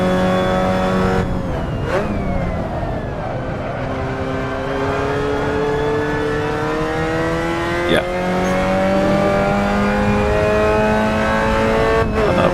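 A Renault Clio Cup race car in a sim racing game revs hard and climbs through the gears, upshifts and downshifts cutting the steady engine whine, loud and continuous with no talk.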